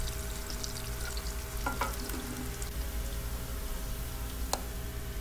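Sliced onions, then chopped garlic, fry in oil with cardamom, cinnamon, bay leaves and cloves for a meat and rice kabsa. A soft, steady sizzle carries a few light stirring clicks.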